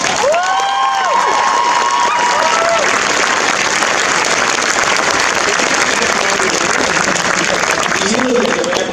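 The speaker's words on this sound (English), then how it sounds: "Can I please get another round of applause for Emily Rackett?" Outdoor protest crowd in Auckland applauding and cheering, a loud, sustained roar of clapping with shouts and whoops, dense and continuous throughout, with a few raised voices rising above it.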